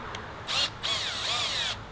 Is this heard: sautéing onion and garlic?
no